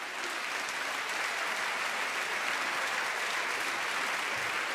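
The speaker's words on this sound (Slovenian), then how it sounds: "Še en aplavz za naš Cici orkester." An indoor audience at a children's song and dance show gives sustained, even applause for a young children's orchestra, a dense, loud wash of clapping that continues throughout.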